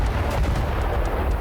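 Israeli airstrike explosions at an airport in Kermanshah, Iran: a dense, continuous rumble of heavy blasts with deep booming low end and no voices.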